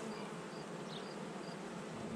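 Honeybees from an open hive during a state apiary inspection, a dense steady buzzing drone close by, unbroken and fairly soft, with no voices.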